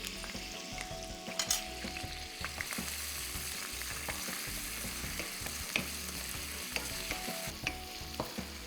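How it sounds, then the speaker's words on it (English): Chopped onion, garlic and chili fry together in a pan for fish curry, a soft continuous sizzle broken by occasional scrapes and taps of a stirring spoon. "So we got onion and garlic getting a little brown in color."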